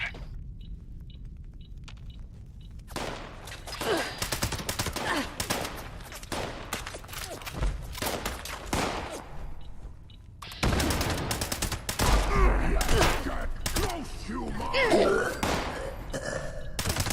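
Rapid gunfire bursts in the Fallout 76 video game, dense crackling volleys and thuds filling most of the stretch after a quiet start, with game voices mixed in.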